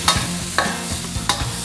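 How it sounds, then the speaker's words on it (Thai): Shallots and garlic tossed in hot oil with browning pork belly: a constant close sizzle punctuated by three quick spatula scrapes spaced evenly across a couple of seconds, no voices. "เราจะผัดหอมแดงกับกระเทียมเราให้หอมเลยนะครับ"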